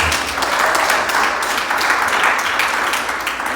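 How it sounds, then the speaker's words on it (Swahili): A church congregation claps and cheers during a Sunday service, dense continuous applause with ululation-like bright textures, steady and fairly loud for the whole stretch. "Tumpigie Mungu makofi na vigelegele"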